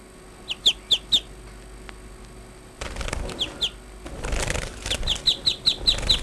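A finch makes short, sharp bursts in quick clusters, a few isolated ones at first and then a denser run of repeated flutters close by, over a faint background hum.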